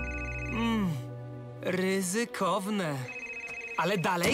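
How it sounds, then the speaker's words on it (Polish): A cartoon telephone in a Bob the Builder episode rings with bright, repeating electronic trills in short bursts, mixed with a character's speech. "Telefon!"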